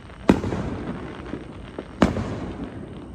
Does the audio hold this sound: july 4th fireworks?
yes